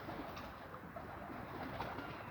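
Pigeons on a rooftop, soft low cooing close by over a steady background murmur, brief and continuous without clear breaks.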